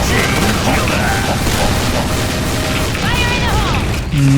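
An automatic shotgun in a video game is held down and fired continuously, producing a dense, loud stream of booming shots mixed with mechanical clatter, under excited talk.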